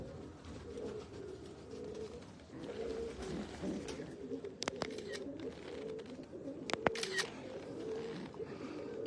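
Soft, steady cooing from breeder pigeons, a pair with two chicks, continues throughout, low and murmuring, with a few sharp clicks and faint background chatter.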